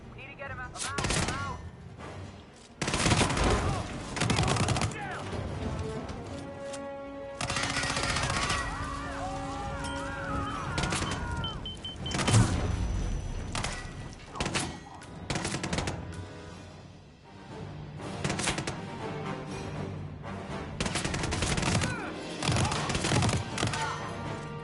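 Submachine gun fire in the video game Hitman 3 comes in rapid bursts with short gaps between them, loud and close, among other in-game impacts and effects.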